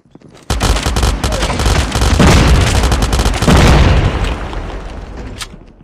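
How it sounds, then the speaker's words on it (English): Frag grenade explosion in Call of Duty Mobile: a sudden loud boom followed by dense crackling blasts and gunfire-like bursts that roll on for several seconds before fading. "Frag! Grenade out!"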